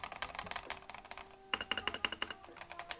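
Someone types on a Techware mechanical keyboard fitted with pink switches, first in a quick flurry of key presses, then in a rhythmic run of crisp, separate clacks close to the microphone.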